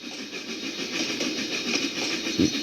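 A Union Pacific mail train engine rumbles steadily at a distance, a broad continuous mechanical roar with faint rhythmic clatter underneath.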